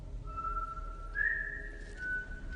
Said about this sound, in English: So all he does is whistle.